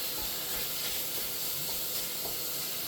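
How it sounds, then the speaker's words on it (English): Spices sizzle and crackle in hot oil in a pan, a steady hiss with small pops throughout, fairly close and alone. "just as those spices hit the hot oil"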